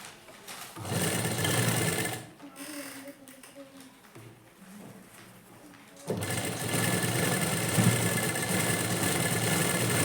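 A sewing machine stitches a belt strip onto a lined blouse front. The motor runs in a fast steady whir, pauses while a voice talks quietly, then starts again loud and close for the rest.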